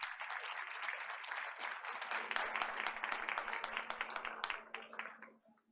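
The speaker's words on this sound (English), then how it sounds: "You deserve another round of applause." A round of applause breaks out at a board of education meeting, many hands clapping in a dense crackling burst that stays steady before tapering off at the end.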